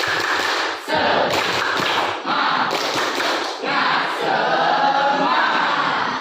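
A classroom of students performs a rhythmic group clap, a burst of patterned hand claps and voices from the crowd in short bursts, fairly loud and close, with a few brief pauses between phrases.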